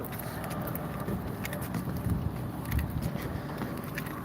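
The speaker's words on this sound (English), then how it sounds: "Oh wait, that's our truck." A freight truck's engine runs nearby with a steady low rumble and a lawnmower-like drone that holds throughout.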